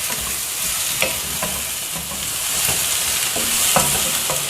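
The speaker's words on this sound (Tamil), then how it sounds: "தக்காளியும் கொஞ்சம் நேரம் நம்ம இப்போ வதக்கணும்." Tomatoes sizzle and fry steadily in a pan for sambar, with a few scraping stir sounds partway through; no voices.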